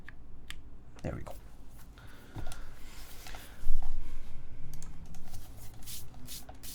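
An NRD Kaze mechanical keyboard fitted with GMK keycaps being typed on in uneven bursts of close clicky keystrokes, with a voice murmuring faintly underneath.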